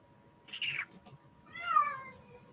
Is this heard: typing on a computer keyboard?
no